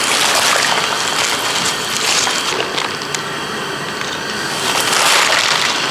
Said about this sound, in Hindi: ये देखिए पालक और पानी को उबाल आ रहा है।